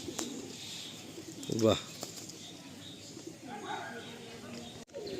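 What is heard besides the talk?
pigeons cooing in a loft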